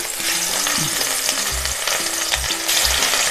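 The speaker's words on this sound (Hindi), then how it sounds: "अब इसको हम फ्राई करेंगे। तेल अच्छा गरम कर लेना है, ये सरसों तेल है।" Marinated fish fries in hot mustard oil with a loud, continuous spattering sizzle, close up, broken by a few short low thuds and hums from the stove or pan.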